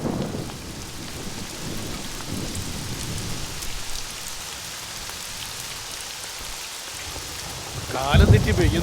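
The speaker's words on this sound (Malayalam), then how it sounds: "കാലം തെറ്റി പെയ്യുന്നൊരു മഴ" Steady, dense rain falls without pause while thunder rumbles in the background, swelling into a louder, closer roll near the end of an out-of-season downpour.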